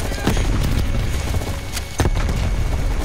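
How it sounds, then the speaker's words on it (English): A grenade blast in the Call of Duty: Cold War campaign, heard as two heavy booming hits, one early and one near the middle, over a steady dense rumble of in-game combat noise. "Grenade."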